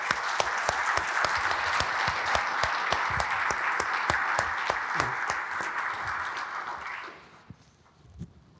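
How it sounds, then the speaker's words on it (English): A maritime conference audience gives a sustained round of applause with sharp individual claps standing out, then it stops abruptly and the room falls nearly quiet. "I would like to ask all of us to clap for our seafarers"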